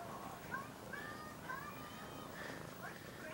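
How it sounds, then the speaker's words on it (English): A small black and white house cat meows several times in short, rising cries over a steady indoor background hum, quiet and fairly close. "So I just want to show you my little kitty cat."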